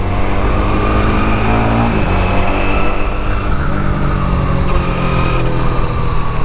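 A 2024 Honda Winner X double overhead cam motorcycle engine revs steadily and loud, its harmonics shifting as the throttle rises and falls, with no talking over it.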